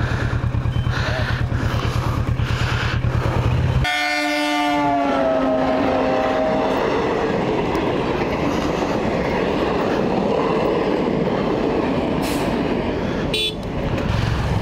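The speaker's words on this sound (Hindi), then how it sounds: "कश्मीर की ट्रेन" A Kashmir train rolls past up close, opening with a loud horn blast and then a steady heavy rumble and rattle of cars that carries on to the end, with no talking.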